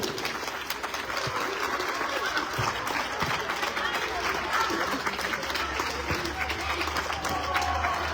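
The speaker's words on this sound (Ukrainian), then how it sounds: "Ми хочемо аплодували один одній." Audience applause at a Diamond League awards ceremony: dense, steady clapping from a crowd that holds at an even level throughout, with some voices mixed in.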